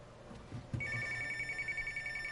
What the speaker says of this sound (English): I gotta get a phone.